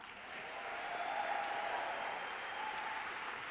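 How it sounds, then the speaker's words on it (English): People at a 5LINX sales training event in Atlanta give a round of applause, a faint, steady clapping that swells slightly and holds without talk. "I want you all to give my leaders a round of applause."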